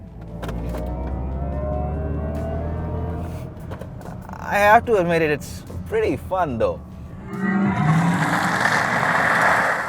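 A synthetic spaceship-like drive sound from a Mercedes-AMG EQS 53 electric car plays through the cabin speakers as a steady low hum, with someone talking over it partway through.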